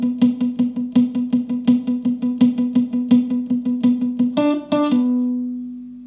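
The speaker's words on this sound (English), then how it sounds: "the verse, like all the verses in this tune, is based around a palm muting pattern of a 16th note." Guitar playing a palm-muted 16th-note verse pattern, a tight, even stream of choppy muted plucks that ends on a few ringing, sustained notes, played alone.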